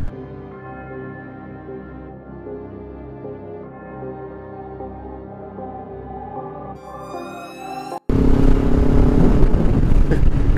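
Motorbike on a group ride out of Auckland toward Raglan, recorded on a GoPro, with a steady engine drone that shifts pitch, then a sudden loud burst of wind and engine roar near the end.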